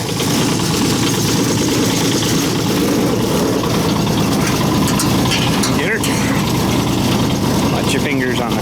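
A Kubota 008 mini excavator engine idles with a loud, rattly, steady mechanical clatter while warming up, running continuously near the listener with a voice briefly audible over it.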